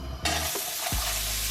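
Vegetables hit hot oil in a pan and start sautéing, breaking into a loud, bright sizzle after a brief quieter moment and holding steady, with a faint stir scrape partway through.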